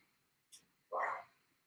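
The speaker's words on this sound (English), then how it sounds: "I'm sorry about my barking dog in the distance." A dog barks once, muffled and some distance away, after a faint short yip, in an otherwise quiet space.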